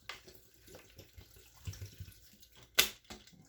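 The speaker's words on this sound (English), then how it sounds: "Let's add the other half of the bottle of water." Bottled water poured into a blender jar of soaked sea moss for a purple sea moss drink, a faint close splashing trickle in short bursts ending with a brief sharp clatter.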